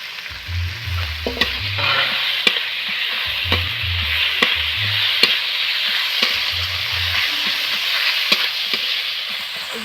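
Ground ginger paste frying with spices in a pan for a spinach, peas and gram flour dish, a steady sizzle with repeated low scraping stirs and sharp clicks of a spoon, close and fairly loud; no talking.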